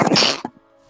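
A single short, sharp sneeze bursts out close to the microphone, then cuts off into quiet with a faint hum, during an online raid game session.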